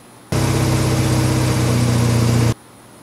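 A Mazda RX-8 rotary engine, rebuilt and not yet turbocharged, runs steadily at a loud, even idle with a low droning hum, cutting in abruptly and stopping just as suddenly after about two seconds.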